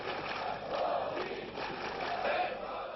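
A large East German protest crowd in 1989 chants and roars at a distance, a dense, continuous mass of voices rising and falling in waves with a muffled, band-limited quality.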